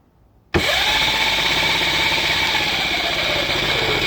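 Razor e300 electric scooter with a 36v 500w motor build, starting abruptly from near silence into a loud steady high whine at full throttle that holds level for several seconds.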